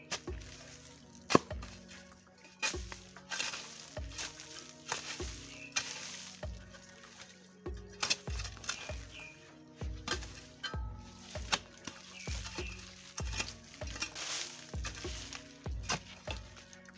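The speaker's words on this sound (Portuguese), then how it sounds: "A gente vai estar cavando para ver o que que é." Digging into soil at the foot of a tree in woodland while metal detecting: repeated scraping and chopping strikes of a tool into earth, close and fairly loud, coming in irregular bursts with brief pauses between.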